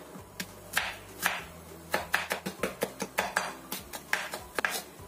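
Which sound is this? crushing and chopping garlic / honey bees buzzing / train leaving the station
crushing and chopping garlic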